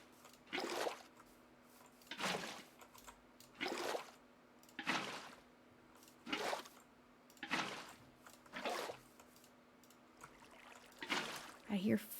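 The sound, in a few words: flowing water in Minecraft video game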